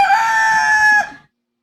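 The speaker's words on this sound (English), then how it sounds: "Hen." A rooster gives one close, loud crow lasting about a second, then it cuts off into silence.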